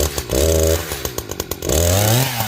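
A Husqvarna chainsaw, either a 590 Timberwolf or 455 Rancher, fitted with a full-chisel Oregon chain, revs up twice in strong loud bursts, dropping to a rattling idle in between.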